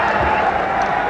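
Applause from a small cricket crowd after a boundary stroke at a one-day match in Colombo, a steady broad wash of clapping and murmur running through the whole moment at moderate distance.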